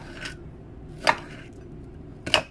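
Knife chopping peeled peanuts on a board, with three crisp separate cuts spaced about a second apart, close and clear over a low steady background.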